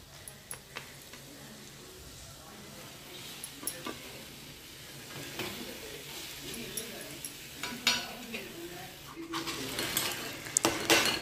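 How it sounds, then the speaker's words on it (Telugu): Fish pieces stirred into masala fried with curry leaves in a pan for a Telugu fish curry, with scattered clinks and scrapes of a spoon against metal over a low sizzle, close by. "ఒక్కసారి చేపల్ని ఇటు అటు కలుపుకుందామండి. అంటే ఆ మసాలా అంతా కూడా ఫిషెస్కి కూడా పట్టేలాగా ఇటు అటు కలుపుతున్నానండి."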